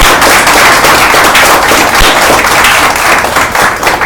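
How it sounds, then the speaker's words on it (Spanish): A church congregation breaks into loud, dense applause during an evening sermon, continuous clapping and cheering that stays strong throughout. "Dale un aplauso a Dios."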